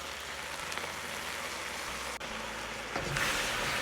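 Pork bones stir-fried in sauce in a hot wok give a steady, close, hissing sizzle that swells louder in the last second.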